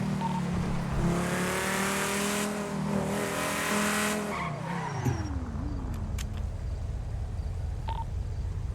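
Car in GTA V speeding away from police, engine harmonics rising and falling with a long tire skid near the middle, then fading into a duller rumble with a few short electronic blips.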